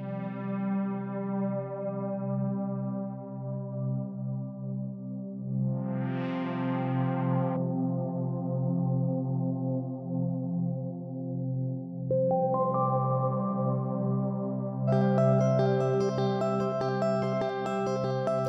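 Damp synth chords played through the UJAM UFX Reverb plugin: sustained chord pads shifting every few seconds, with a washy spacious tail and brighter layered notes entering toward the end, no voices.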